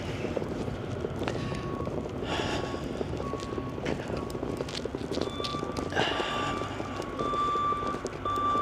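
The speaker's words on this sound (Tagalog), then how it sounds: "Another skid steer." A skid steer loader sounds its reversing alarm, a steady run of high beeps over a constant engine drone and wind rumble outdoors.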